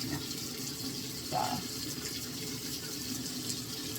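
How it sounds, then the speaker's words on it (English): Warm water running from a tap during a morning skincare routine, a soft steady hiss with a brief brighter splash near the middle, fairly quiet and continuous. "I got just nice warm water going."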